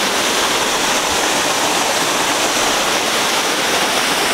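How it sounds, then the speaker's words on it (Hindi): A waterfall in Balakot roars steadily and close by, a dense, unbroken rush of falling water with no voices over it. "तो ये देख सकते हैं ये इस तरीके की पूरा वाटरफॉल है"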